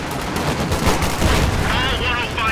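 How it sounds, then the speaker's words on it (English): Dense battlefield gunfire in Company of Heroes 2 during the Ardennes Assault mission at Wiltz, rapid overlapping shots and booms with a voice speaking through it. "We're taking fire!"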